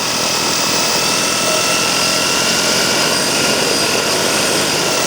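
Propellers of a 3D printed drone spin up under throttle on a maiden flight, giving a loud, steady, close whirring drone with a high tonal whine, no voices.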